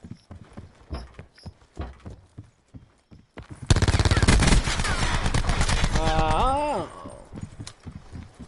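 Gunshots fired at close range during a shooting training exercise break out suddenly as a loud, dense volley of rapid cracks, following sparse tapping and speech, with voices continuing over the gunfire.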